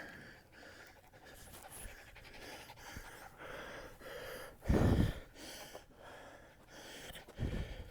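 A hiking dog pants on a trail, with steady quick breaths close to the mic, footsteps and rustling underneath, and a couple of louder gusts of noise toward the end.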